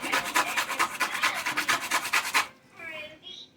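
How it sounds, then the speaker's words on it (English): Pieces of coconut are scraped against a grater in a quick, steady rasping rhythm for about two and a half seconds, close and moderately loud, then the grating stops. "I'm going to grate a few pieces of coconut in it"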